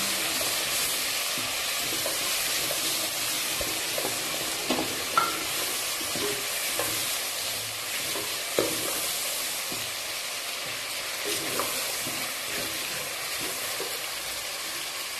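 Tomatoes cook in a spiced masala in a pan for dhaba-style chana dal. A constant close sizzle and hiss runs throughout, with occasional spoon knocks and scrapes from stirring, and no talking.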